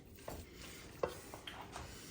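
A spoon stirs breadcrumbs into an oyster and Parmesan mixture, giving soft scraping strokes in a rough rhythm over a faint background sizzle, close and fairly quiet.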